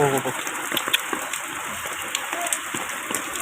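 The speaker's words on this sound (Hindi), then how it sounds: "बारिश बहुत ज़्यादा हो रही है" Heavy rain falling in Jeddah, Saudi Arabia, a loud, dense, continuous hiss of rain on surfaces with scattered patters, while someone speaks briefly at the start.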